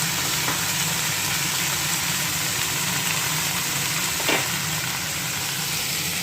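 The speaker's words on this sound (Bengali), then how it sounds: "একটু আগে ভেজে নেব।" Vegetables frying in hot oil in a pan for a Bengali chorchori, a dense continuous sizzle with a low steady hum beneath and a brief scrape near the end, close with no voices.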